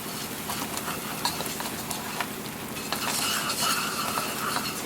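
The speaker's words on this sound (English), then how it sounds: "I turned off the heat, and I'm just going to mix it for 10 minutes." A pot of frothing caramel for popcorn being stirred off the heat, foamy with baking soda, giving a steady close scraping and bubbling hiss that grows slightly louder toward the end.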